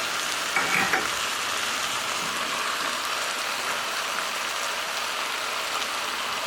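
Pork loin browning in a pan with potato chunks added, giving a dense, steady sizzle and frying hiss close by, with a brief clatter near the start and no talking.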